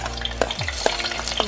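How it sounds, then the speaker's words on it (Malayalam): Green chilies hit hot coconut oil in a clay pot, giving a close sizzle with quick stirring scrapes and taps over a second and a half. "നമ്മൾ ചട്ടി വെച്ചു, അതിൽ എണ്ണ ഒഴിച്ച് അത് ചൂടായി തുടങ്ങി. അതിലേക്ക് നമുക്ക് പച്ചമുളക്,"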